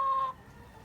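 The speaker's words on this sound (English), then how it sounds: "So this is a chicken coop for the backyard." A single short cluck from a hen in a backyard chicken coop holding about 22 birds. The call is clear and close, lasts a fraction of a second, and then fades into quiet.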